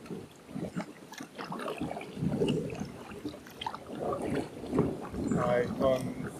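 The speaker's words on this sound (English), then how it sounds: "Wind's getting up." Wind gusting around a paddler in an inflatable kayak on the River Trent near Nottingham, a steady rushing blow with paddle splashes and water movement beneath someone talking throughout.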